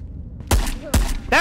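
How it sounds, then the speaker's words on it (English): Gunshots in the shooter game Ghosts of Tabor, with three sharp, punchy reports spaced about half a second apart, quite loud and close rather than distant, along with some brief voice sounds. "I hear gunshots."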